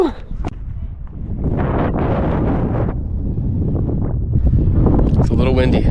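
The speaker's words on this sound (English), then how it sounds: "It's a little windy." Outdoor wind on a mountain walk gusts and rumbles across the microphone as a steady close roar, with a person talking over it.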